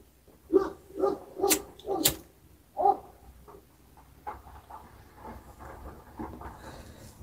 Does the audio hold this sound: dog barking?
yes